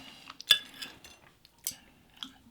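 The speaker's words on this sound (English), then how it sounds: "Let's cut a meatball." Cutlery cuts through a vegan Swedish meatball made from frozen tofu, with a few sharp clinks of metal on a plate against a quiet background, close up and without talk.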